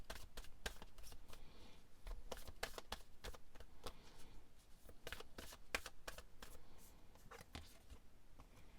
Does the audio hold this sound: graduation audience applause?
no